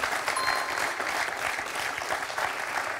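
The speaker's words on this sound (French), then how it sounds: "Le public et Loïc, très sportivement, applaudit cette belle réponse d'Isabelle" Studio audience applauding steadily on a French television quiz show, a dense even wash of clapping throughout with no talk over it.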